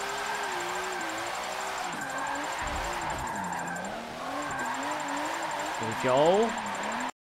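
An S15 drifts in Forza Motorsport 7, its engine droning and wavering through a slide before a sharp burst of tire squeal near the end; someone talks briefly over it.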